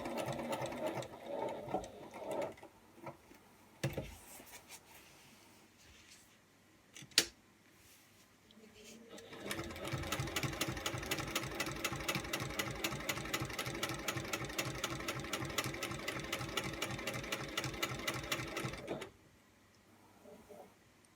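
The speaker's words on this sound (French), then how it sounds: "vous posez la mousse en faisant une piqûre tout autour" A sewing machine stitches all the way around a piece of foam, running in a long steady burst of rapid even clatter after a few short handling noises, close and alone.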